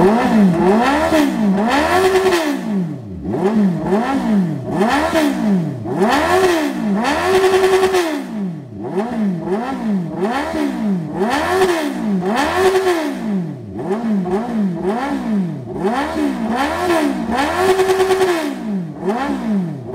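A 1-liter motorcycle exhaust, 2021 Kawasaki Z H2 or 2022 Suzuki GSX-S, revved repeatedly up close: loud rising and falling engine bursts in a regular rhythm, each climbing to a held peak before dropping back to idle.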